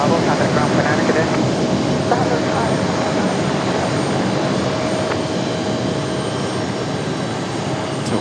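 An American Airlines Boeing 777 jet sets off for London Heathrow at Raleigh-Durham International, its engines making a steady, loud broadband roar that holds throughout, with a faint tonal whine on top.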